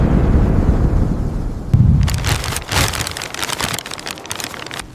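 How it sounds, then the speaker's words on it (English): Heavy rain pours down steadily, loud and close, with a sudden louder gust of downpour midway and sharp crackling bursts that may be thunder; no one speaks. "A heavy rain is coming."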